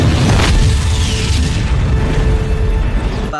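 A heavy boom from an explosion in the 1997 horror film The Relic, with a loud low rumble throughout that fades slowly over a few seconds.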